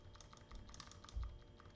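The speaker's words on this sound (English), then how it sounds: "and typing enter in the keyboard." Steady clatter of keys typed on a computer keyboard, close and fairly quiet, with one heavier keystroke near the end.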